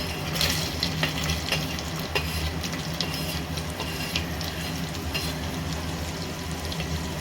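Whole spices—cloves, a piece of cinnamon, cardamom—and coconut frying in two tablespoons of pure ghee, a steady close sizzle with stirring clinks and scrapes throughout, no talking.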